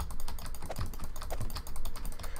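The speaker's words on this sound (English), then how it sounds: "My keyboard's a little bit too noisy." Rapid, steady clatter of keys on a noisy computer keyboard, close and fairly loud, typed continuously without pause or talk.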